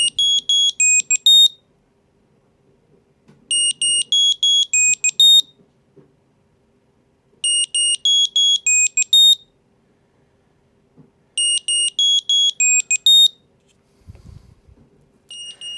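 A Journey LOC8 Find My tracker chirps its alert in four bursts of rapid high-pitched beeping patterns separated by pauses of near silence, loud and close.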